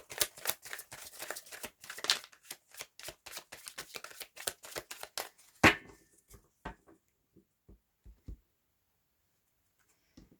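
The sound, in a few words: shuffling and cutting a deck of tarot cards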